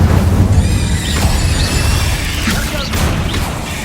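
Incendio fire spell cast in Hogwarts Legacy amid combat, a loud continuous roar with crackling bursts, whooshing sweeps and sustained ringing tones over heavy low rumble.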